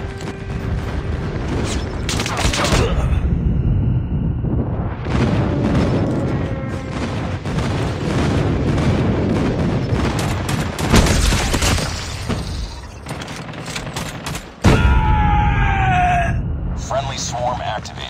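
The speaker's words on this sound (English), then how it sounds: "Enemy airstrike incoming." Call of Duty Mobile airstrike explosions and gunfire: heavy booms and rumbling blasts roll through repeatedly amid rapid bursts and clatter, with game voice announcements in between.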